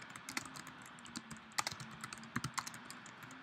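Fingers type on a computer keyboard in a quick, uneven patter of close key clicks, with a few louder strikes and no talking.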